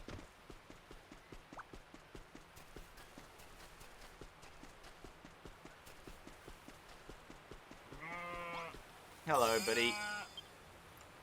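Sheep bleat near the end in Dragon Quest Builders 2, a few wavering cries, over steady clip-clopping footsteps and a brief spoken greeting.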